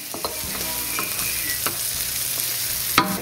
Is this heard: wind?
no